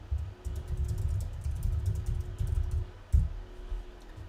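Quick, irregular clicking of keys being typed on a computer keyboard, fairly quiet and steady over a low background hum, with no one talking.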